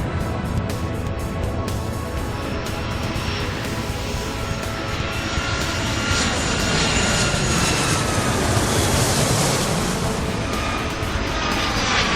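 Aircraft taxiing in the Airport Madness 3 video game: a steady, loud engine roar with a broad hiss fills the whole stretch, swelling slightly midway. No voices are heard.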